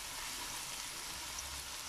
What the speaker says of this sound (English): And the sound, the sizzling sound.